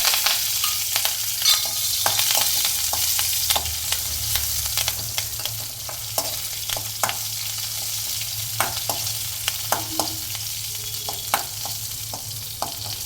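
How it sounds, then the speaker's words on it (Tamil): Curry leaves and green chillies fry in hot oil in a pan, a steady close sizzle dotted with sharp pops and crackles throughout, with no talk. "கருவேப்பிலை நல்லா பொரிஞ்சிருச்சு."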